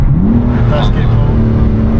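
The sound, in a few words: car accelerating hard in first gear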